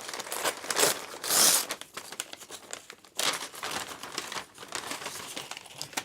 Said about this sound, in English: So this one's a paper bag inside a paper bag.